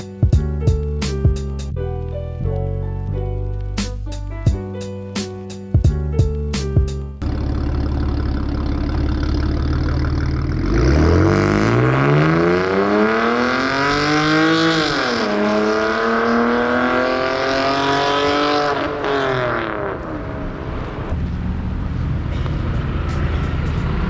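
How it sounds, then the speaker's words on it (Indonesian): A BMW E90 with a loud aftermarket exhaust revs hard, throaty, rising and falling through several sustained pulls after a few short blips at the start. "Suaranya kencang, tapi pada saat ditarik tuh naiknya cepet"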